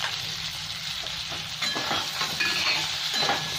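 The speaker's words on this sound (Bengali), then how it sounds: "ভালো করে একটু ভেজে নেবো।" Turmeric, salt, slit green chilies and tomato fry in a pan for a Bengali fish curry, giving a constant close sizzle that grows a little louder partway through, with light stirring and no speech.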